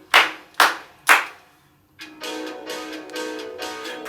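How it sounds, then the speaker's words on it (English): Three crisp, evenly spaced hand claps ring out close and loud during a children's storytime game, followed after a short silence by a denser stretch of mixed room sound. "clap your hands 3 times"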